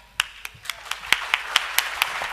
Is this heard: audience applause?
yes